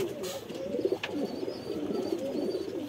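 Pigeons at a rooftop loft on a house in Bangladesh, soft low cooing that repeats steadily over faint background noise, fairly close.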